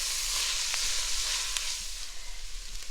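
Sliced leeks, the pale bottom parts only, sizzling steadily in a hot soup pot for split pea soup with smoked ham hock, a loud continuous hiss with a few faint stirring taps.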